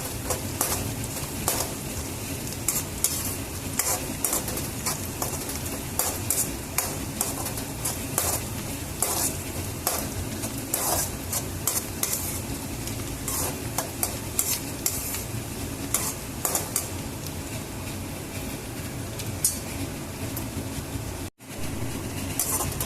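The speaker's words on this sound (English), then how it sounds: "You can smell the aroma of the onions getting fried." Onions frying in a pan for vegetable vermicelli upma, a constant close sizzle broken by repeated scraping stirs of the spoon throughout.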